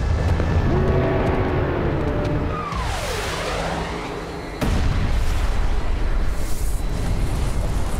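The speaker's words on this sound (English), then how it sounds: "The asteroid hits with an explosive force of 100 trillion metric tons" A cinematic asteroid impact rumbles with a deep, loud roar that swells, dips, then bursts into a sudden heavy blast and continues as a dense, sustained roar of debris.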